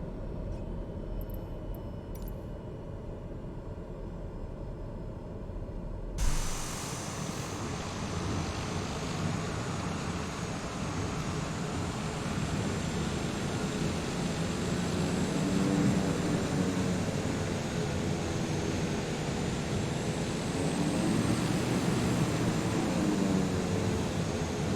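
A small aircraft engine in the Flight Simulator game catches after a brief quiet start, abruptly settling into a steady, loud droning hum that holds and rises slightly as it keeps running on its own.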